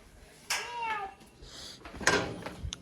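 A frightened cat gives a faint, drawn-out meow, followed by scattered soft noises and brief distant voices in a quiet setting.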